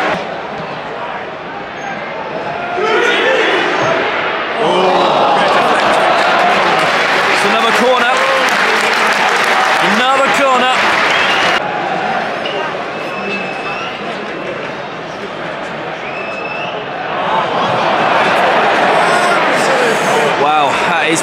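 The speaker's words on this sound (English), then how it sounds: "Crowd are going mad. Crowd are going crazy." Football stadium crowd at Wolves vs Brighton cheering and applauding, a loud surging roar with bursts of clapping that swell and fade, while someone talks over it nearby.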